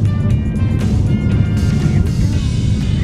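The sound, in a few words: car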